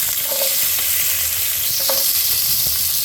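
Small shallots drop into a hot pan for sambar and fry with a loud, continuous sizzle, broken by a few clinks and stirring scrapes.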